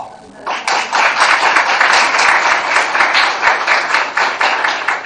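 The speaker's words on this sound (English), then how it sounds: "Please clap with the zeal and energy" An audience at a course closing ceremony in Quetta breaks into dense, lively applause that starts abruptly and continues steadily, a crowd of many hands clapping together.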